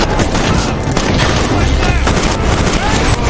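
Gunfire in a film scene as a woman shoots at fleeing men, a dense crackling burst of shots and booms running continuously under a loud, busy mix.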